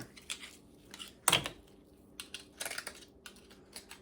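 An Australian oyster knife works into a wild Gulf oyster, giving small scraping clicks and then one sharp, close pop as the shell is pried open. Softer clicks follow in the quiet.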